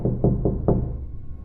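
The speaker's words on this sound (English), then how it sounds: "That soft, persistent knock." Four soft, evenly spaced knocks on a door land in a quick series, muffled and close, with a short fading tail after the last one.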